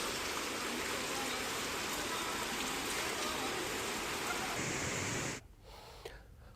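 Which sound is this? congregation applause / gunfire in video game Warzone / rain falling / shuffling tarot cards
rain falling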